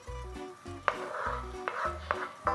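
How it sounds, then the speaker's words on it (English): Garlic fries in a pan for spaghetti aglio e olio amid repeated stirring, with metallic utensil scrapes and taps against the pan over a soft sizzle, close and fairly quiet. "the garlic is just starting to fry away"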